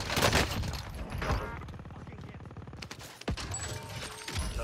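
Gunfire exchanged in Call of Duty Warzone on Rebirth Island, with several sharp shots and bursts of rapid fire up close, one hard crack near the end, and rumbling ambience between them.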